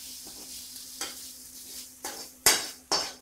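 A spoon scrapes and clinks as sautéed onions are stirred into paniyaram batter in a bowl, a few soft strokes building to several sharp, close knocks against the bowl.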